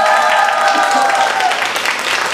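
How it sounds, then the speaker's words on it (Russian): An audience applauds two finalists of a contest on Lytkarino town television, a dense, steady wash of clapping lasting a couple of seconds with a sustained tonal layer of music or voice running through it. "Пожалуйста, аплодисменты!"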